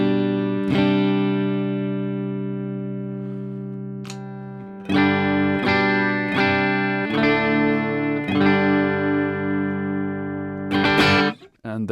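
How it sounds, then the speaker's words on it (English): A PRS Myles Kennedy electric guitar plugged straight into an Orange Dark Terror amp with no pedal, played clean: sustained ringing chords and single strums with clear attacks, decaying between hits, alone and close. "So with the pedal off, just guitar straight into amplifier."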